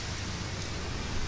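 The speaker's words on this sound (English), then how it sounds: "So the rain's starting to let up a little bit." Steady rain falling outdoors during a heavy shower that is easing off, a dense continuous hiss of drops with no talk.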